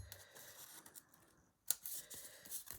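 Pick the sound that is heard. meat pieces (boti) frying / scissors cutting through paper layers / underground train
scissors cutting through paper layers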